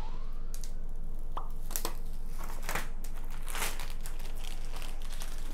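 Protective plastic film is peeled off a high-end gaming PC, giving soft crinkling and a few crackling rips up close over a faint steady hum.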